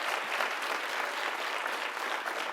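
Dense audience applause at a commencement ceremony, steady and loud from start to finish with no gaps, a broad wash of many hands clapping together.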